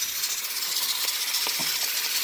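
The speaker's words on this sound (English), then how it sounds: "So the pressure cooker's rocking." A pressure cooker rocks and hisses steam during outdoor cooking, giving a steady broadband hiss with a few faint soft rattling ticks from the jiggling weight, fairly close.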